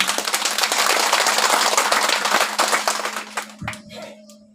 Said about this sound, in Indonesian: Kita berikan tepuk tangan untuk dia.